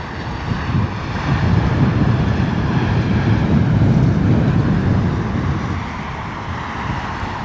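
A British Airways Airbus A320 lands at London Heathrow in wet, windy weather, giving a steady, fairly quiet low engine roar with wind noise that holds throughout.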